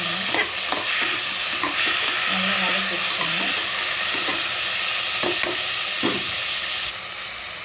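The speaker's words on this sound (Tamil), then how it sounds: "நல்லா வதக்கி விட்டுக்கோங்க ரெண்டு தக்காளி எடுத்துருக்கேன் பெரிய ரெண்டு தக்காளி போட்டுக்கணும்" Tomatoes stirred and sautéed in a pan for chicken biryani, giving a steady close sizzle with repeated scraping stirs of a spoon against the pan throughout.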